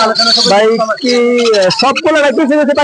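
Cockatiel chicks and other pet birds call at a busy bird market, their chirps mixed into loud, constant nearby voices of people talking.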